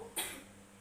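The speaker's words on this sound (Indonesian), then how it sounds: "Tarik nafas Ibu, tahan, 1, 2, 3, batukan Ibu." A woman patient gives a single short cough during an effective cough breathing exercise with a nurse. It is quiet and close over faint background hum.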